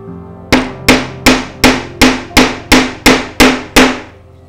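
Ten sharp, evenly spaced hammer blows ring out close by while a part is bent back into shape during a balloon race car build, each strike loud with a short metallic ring.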